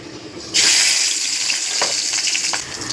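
Whole spices tempering in hot oil for a Bengali prawn paste dish, Chingri Bata, as a sudden loud sizzle bursts in after a quiet moment and then hisses steadily, close and alone.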